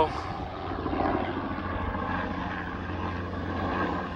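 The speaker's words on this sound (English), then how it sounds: "The baby RC and the helicopter in the same shot." RC model airplane and helicopter flying together outdoors, a steady buzzing engine and rotor drone at moderate distance, continuous and fairly loud over wind.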